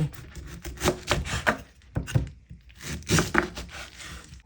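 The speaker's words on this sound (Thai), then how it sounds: "หั่นตามชอบเลยนะคะจ๊ปันก็จะหั่นเป็นชิ้นๆประมาณนี้" A knife chops repeatedly through pineapple on a cutting board, with quick rhythmic strokes in bursts separated by short pauses.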